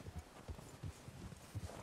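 Horse hooves clip-clop in Red Dead Redemption 2, a steady walking rhythm of soft, low thuds repeating about twice a second, fairly quiet and without talk.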